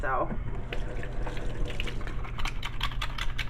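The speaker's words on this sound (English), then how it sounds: "I'm going to go ahead and lather this up" Re-batched handmade soap is worked into a lather with running water, giving soft wet squishing and splashy tapping sounds close by, over a steady low hum.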